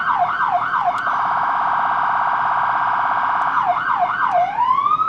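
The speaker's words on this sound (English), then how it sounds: "Push the siren. this actual siren button." A highway patrol police car siren blares loud and close, opening with quick whooping yelps, holding a steady wail, then yelping again before winding down.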